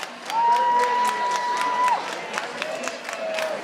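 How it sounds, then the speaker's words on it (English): Crowd at a dance competition cheers and whoops as two dancers leave the floor, with a sustained whistle and scattered shouts over a steady wash of applause. "let's give the beautiful Ms. Patty Paiva and Forrest another round of applause as they head off the floor"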